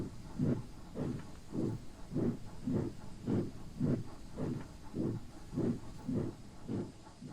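Steam engine Henry puffs in a steady, even rhythm of about a dozen chuffs with a hissing wash of steam beneath, fairly close and moderately loud, with no voices.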